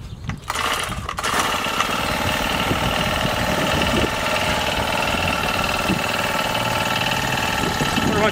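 A gas-powered ice auger engine runs steadily nearby with a rough, buzzing, rattling drone after a few brief starting sounds, and it keeps going throughout.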